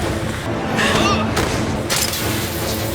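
A smoke bomb goes off during a chaotic auction raid, a dense, loud burst of blasting noise and hiss that swells and fades over a few seconds, thick with overlapping thuds.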